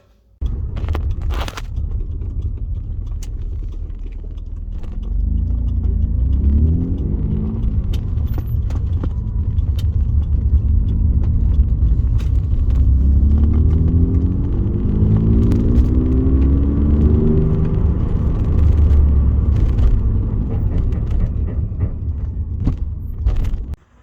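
A car with an ABS fault is started and driven out of a workshop, its engine running as a steady low rumble throughout, close and continuous with no talk.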